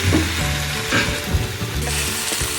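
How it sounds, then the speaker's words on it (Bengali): Small fish cooking in a pan with eggplant, potato and onion tempered with black cumin seeds: a loud, close sizzle runs throughout with scraping stirs, and no speech is heard. "সে মাছটা দিয়ে আর একটু নাড়িয়ে তারপরে নামাতে হবে"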